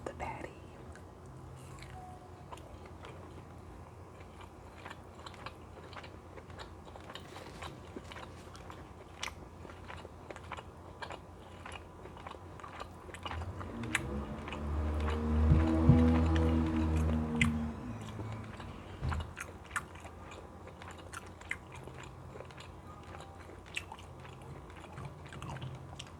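Close, crunchy chewing of a seasoned turkey patty and kale, with moist bites and crackles repeating at an irregular pace and a louder burst of mastication partway through.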